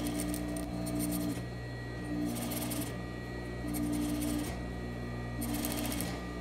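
Sewing machine stitching a set-in sleeve, running in four short bursts with pauses between, a steady low motor hum throughout.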